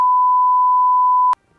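A censor bleep over speech, one loud, pure, steady electronic tone lasting just over a second that stops abruptly, followed by near silence.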